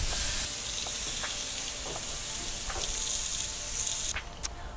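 Steady, loud sizzling of food hitting an oiled cast iron grill for Filipino barbecue, a continuous crackling hiss with a few sharper pops and a brief disturbance near the end.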